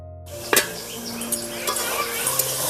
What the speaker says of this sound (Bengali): ভাজাটা করব কিন্তু ঢাকা দিয়ে দু মিনিট অন্তর অন্তর ঢাকাটাকে খুলতে হবে আর ভাজাটাকে নাড়িয়ে নিতে হবে